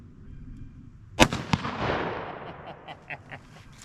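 A sharp, close gunshot from a Ruger American .204 rifle at 2-liter bottles on a muddy range, followed by a second quieter crack and a rolling echo that fades over a couple of seconds.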